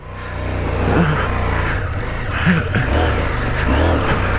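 A CF Moto 800MT motorcycle engine held at high revs in first gear, a steady loud drone that rises and surges in waves, with no talking.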